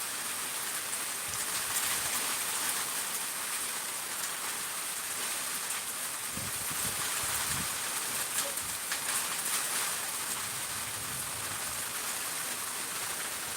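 Heavy rain pours down in a dense, unbroken hiss, steady and loud throughout with occasional heavier splatters nearby and no voices.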